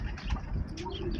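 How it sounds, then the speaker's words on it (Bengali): Pigeons in a sandy desert give soft, low cooing calls amid faint outdoor background noise, a short murmuring phrase with a few brief chirps. "এটার ভিতরে কিন্তু অনেকগুলো কবুতর আছে, এই কবুতরও কিন্তু এই যে মরুভূমির ভিতরে।"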